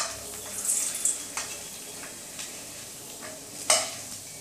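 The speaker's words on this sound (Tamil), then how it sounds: "எண்ணெய் சூடாயிட்டு இதில் முதல்ல அப்பளத்தை போட்டு பொரிச்சு எடுத்துடலாம்" Appalam papads frying in hot oil give a steady, fairly faint sizzling hiss with a few crackling bursts and a sharper pop near the end, and no voices.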